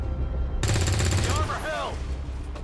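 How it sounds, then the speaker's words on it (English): Full-auto gunfire in XCOM 2 rips out in a dense, rapid burst lasting under a second, loud and close, followed by short warbling tonal effects over steady game background. "Full auto fire, do it."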